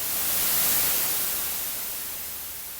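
Synthesizer white noise held at its sustain level makes a steady, even hiss with a slight swell early on and a gentle fade toward the end.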